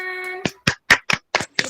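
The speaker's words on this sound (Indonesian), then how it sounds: "Tepuk tangan." Children in a classroom clap in about six short, separate bursts that follow a brief sung or spoken tone, loud and close by with quiet gaps between each burst.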